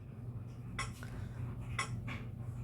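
Metronome-like beat at 60 BPM: two pairs of short, light clicking taps about a second apart, soft over a low background hum.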